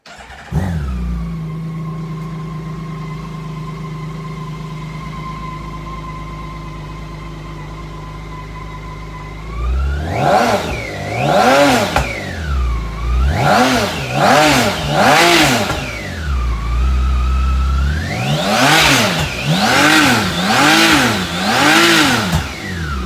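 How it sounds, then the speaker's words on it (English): BMW K1600B motorcycle with its stock exhaust, first idling steadily, then revved repeatedly in loud rising and falling bursts, close by with no talking. "There's our sound test on the stock exhaust"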